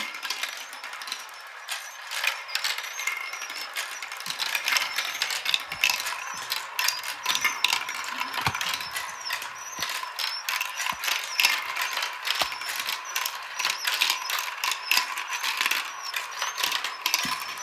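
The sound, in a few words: marble run elevators lifting marbles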